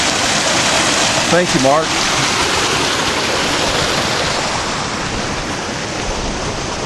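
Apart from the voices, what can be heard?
water running through a micro sluice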